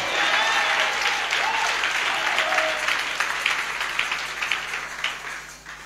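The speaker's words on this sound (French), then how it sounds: "Acclame le Seigneur." A church congregation at a French-language service breaks into loud, sustained applause, a dense wash of clapping that holds steady, then gradually thins and softens toward the end.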